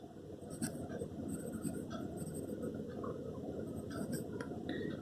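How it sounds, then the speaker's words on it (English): A pen writing labels on a biology diagram, with close, soft scratching strokes and small taps in an irregular rhythm over a low background hum. "Okay, I'll write it over here."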